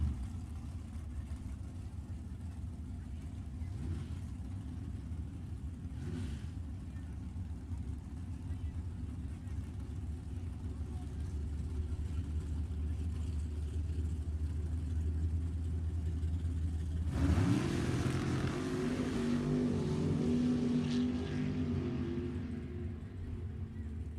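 Drag racing cars, one a Roadster, at Sacramento Raceway: a low engine rumble holds steady at a distance, then a sudden louder surge of engine noise launches and fades down the strip.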